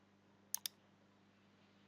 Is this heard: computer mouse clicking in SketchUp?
yes